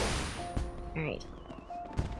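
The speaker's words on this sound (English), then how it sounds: "I still hear the fireworks going off." Fireworks burst in the Final Fantasy XIV online game: a few sharp popping bangs spaced apart, moderately loud over steady in-game music and tones.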